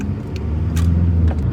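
A VW 1.9 TDI PD130 with a broken gearbox and no reverse creeps along in first gear, its steady low diesel rumble close and continuous, with a few faint clicks over the top.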